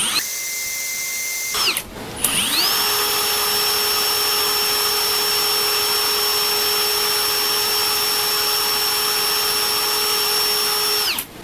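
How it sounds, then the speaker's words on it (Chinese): A repaired electric wrench on test spins up after a brief start and runs as a loud, steady, high-pitched motor whine close by, with no one talking. "我們換我們之前修理好的這一台電動扳手。"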